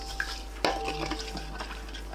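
A spoon stirs a seasoning mix of fish sauce, plum syrup, soy sauce, rice syrup and sesame seeds in a bowl, with one sharp clink against the side and then soft, quiet mixing sounds.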